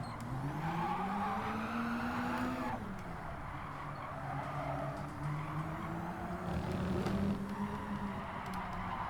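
The Skoda VGT race car in the Gran Turismo video game, driven at Tsukuba, holds a sustained engine drone whose pitch rises and falls as it shifts and accelerates, with no voices.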